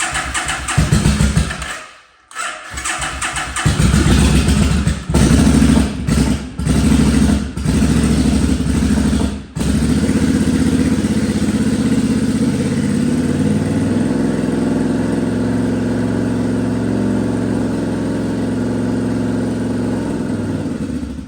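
A 1974 Yamaha RD250 two-stroke motorcycle with Cobra pipes sputters through several stuttering start attempts, then catches and settles into a steady, slightly uneven idle, close and loud.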